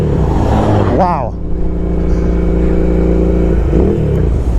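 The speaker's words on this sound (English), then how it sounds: "That is an amazing sounding bike." Royal Enfield Interceptor 650 parallel-twin motorcycle, a loud close engine that revs up sharply, then settles into a steady throbbing idle with a brief second blip near the end.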